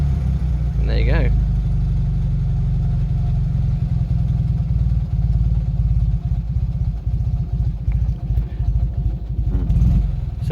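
A 1970 Fiat 500L engine runs after starting, a loud, steady low idle with a rapid throbbing beat, close by, with a brief voice near the start.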